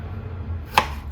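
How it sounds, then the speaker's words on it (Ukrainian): A single crisp knife chop through melon against a board, sharp and close, set in a quiet room with a low background hum. "і ріжу на маленькі шматки"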